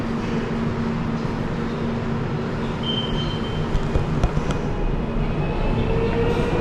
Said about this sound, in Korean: 지하철 타고 이동하려고 지금 현재 창동역 쪽으로 왔고요.